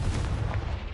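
A Confringo fire spell blast in Hogwarts Legacy, a single deep booming burst that fills the whole second and rolls off, loud and heavy with no talk.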